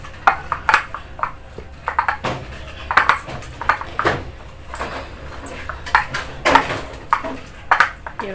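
Chilies ground with oil in a stone ulekan, a mortar and pestle, give close, irregular knocks and scrapes of stone on stone, in quick clusters with short pauses between strokes.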